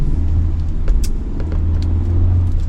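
A used 15-seat diesel children's transport van on a test drive, heard as a steady low engine rumble and road noise from inside, with a few faint knocks and rattles over it, no talk.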